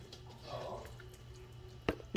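Pork cooking water being poured for pozole, a soft, faint splashing trickle with a few sharper drips and clinks near the end.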